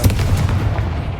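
A Confringo spell blast in the video game Hogwarts Legacy: a short, loud booming burst with a rumbling tail that fades within about a second.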